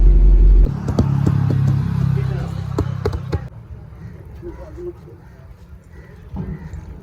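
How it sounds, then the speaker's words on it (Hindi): A vehicle rolls slowly along a forest road at night with a low, steady engine rumble and scattered rattles and clunks, and the engine sound fades down partway through. "अभी मैं बहुत स्लो गाड़ी चला रहा हूँ"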